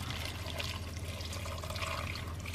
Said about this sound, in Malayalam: നല്ല ചൂട് വെള്ളം ഒഴിച്ചു കൊടുക്കാം.